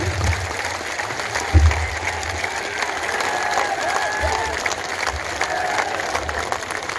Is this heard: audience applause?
yes